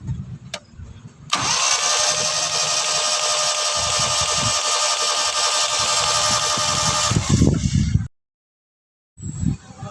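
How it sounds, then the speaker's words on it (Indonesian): A Toyota Starlet car engine cranks and runs with a steady, loud, close roar for several seconds, then cuts off abruptly into silence before a brief noise resumes. "Ini di starter buat bangunin kerak yang tadi di mesin."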